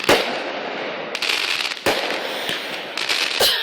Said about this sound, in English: These are Michigan fireworks.